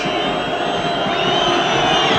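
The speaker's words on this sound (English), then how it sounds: "the cheers from the Cumbrian fans" Cumbrian supporters cheer at a 1977 Workington versus Wigan Lancashire Cup rugby league final, a steady, dense crowd roar with no single voice standing out.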